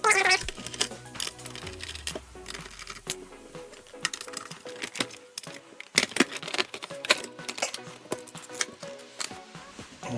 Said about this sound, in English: just going to take these screws out